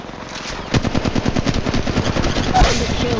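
Rapid automatic gunfire in the mobile battle-royale game Apex Legends Mobile, a loud sustained burst of closely spaced shots that runs nearly the whole time with a heavier blast near the end.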